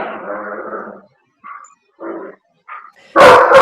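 A dog barks close by, with one longer bark followed by a few short, spaced yips and then a final loud bark, with quiet between them.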